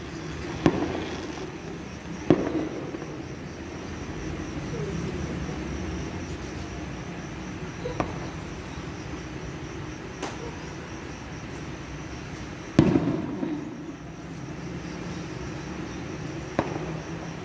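Fireworks going off at a festival opening in Quezon Province, scattered loud booms and sharp cracks spaced several seconds apart over a steady crowd and outdoor background hum.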